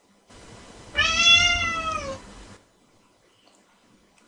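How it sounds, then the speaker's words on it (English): A domestic cat meows once in a clear, drawn-out, close call lasting about a second, alone over a soft background hiss with no talking. "Cat."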